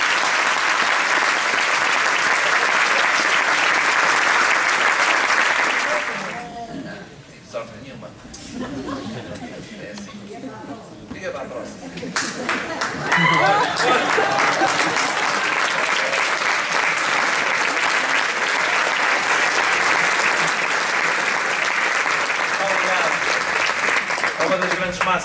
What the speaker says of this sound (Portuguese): Salva de palmas, muito obrigado.